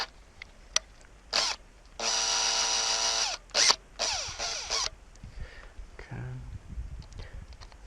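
Power tool zipping off fasteners from a well pump, a few short whirring bursts and one longer high-pitched run, with clinks of metal and someone speaking briefly.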